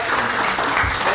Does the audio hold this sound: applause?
yes